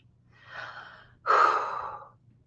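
Someone takes a deep breath, audibly close, with a soft inhale followed by a louder, longer breathy exhale, alone against faint background hum.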